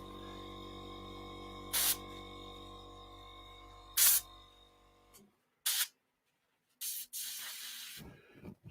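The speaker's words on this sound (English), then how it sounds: "And you're spraying metallics over metallics" Airbrush spraying metallic paint over metallic paint on a scale model, with the pressure turned up: several short hissing bursts of varying length over a steady mechanical hum from the compressor, which cuts out partway through.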